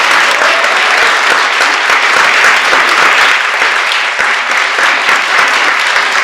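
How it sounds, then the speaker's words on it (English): Sustained, dense audience applause for a panel at a history and science event, loud and even throughout with no voices breaking through. "Please, one more round of applause for our amazing panel."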